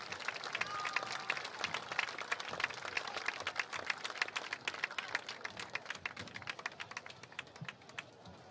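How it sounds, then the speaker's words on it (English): Crowd applause for an inductee at a high school football hall of fame ceremony, a dense run of clapping from many hands that holds steady, then thins and fades toward the end. "So another great round of applause for tonight's induction of Ron Etheridge."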